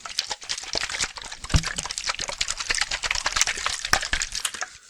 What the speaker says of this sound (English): I'm going to hand you this small water bottle.